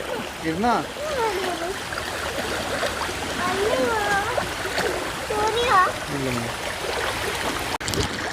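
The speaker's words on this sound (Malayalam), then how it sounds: "ഇത് തോട്." A stream running beside a paddy field, with continuous rushing and splashing water close by and children's voices chattering over it throughout.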